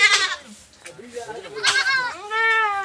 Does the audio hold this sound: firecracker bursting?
no